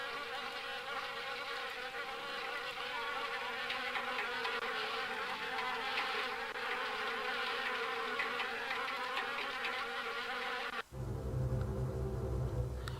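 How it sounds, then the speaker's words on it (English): Wasps in the horror video game Harvester, a dense loud insect buzz droning steadily for about eleven seconds before cutting off abruptly into a lower hum. "Those are the noisiest fucking wasps."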